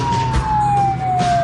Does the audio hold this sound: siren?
yes